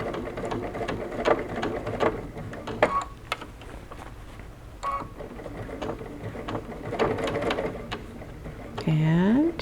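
A sewing machine stitches a bucket hat in short runs and stops, with clicks and knocks between bursts and someone talking over it.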